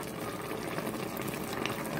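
Paksiw na tilapia, tilapia simmered in vinegar, boils in a covered cooking pot with a steady, even bubbling hiss that holds at one level throughout, close up, with no talking.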